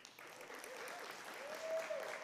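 Graduates applauding at a spring 2022 community college commencement ceremony, a soft, distant wash of clapping from a large crowd, steady and slightly swelling toward the end.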